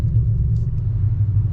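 A Whipple-supercharged 2024 Ford Mustang GT engine rumbles deep and loud at close range, a steady low drone with no talk over it.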